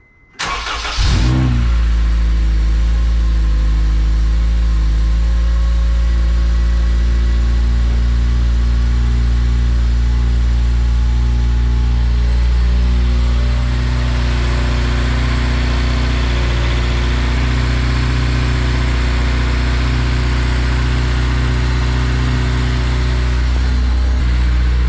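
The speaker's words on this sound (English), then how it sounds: "All right, guys, it's a cold start. Hopefully it goes well and it doesn't idle like crap." Car engine cold-starting after an RBC intake manifold install, catching with a sharp burst and settling into a steady, loud idle that runs continuously close to the mic with a slight shift partway through.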